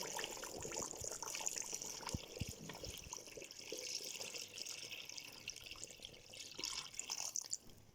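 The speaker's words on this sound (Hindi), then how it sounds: "अब इसमें हम ऐड करेंगे 4 to 5 ग्लास ऑफ वाटर" Steady splashing of four to five glasses of water pouring into a pressure cooker of nihari, faint and continuous with small drips and clinks.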